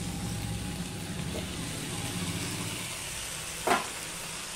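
Ginger paste and tomato puree sauté in a hot pan with a steady, even sizzling hiss, broken by a single short clatter near the end.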